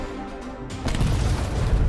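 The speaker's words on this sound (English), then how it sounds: "the tank soared into the air, creating a spectacular show reminiscent of fireworks" A tank blows up in combat footage after a kamikaze drone strike, loud and sudden. A single heavy boom is followed by a sustained roaring rumble that runs to the end.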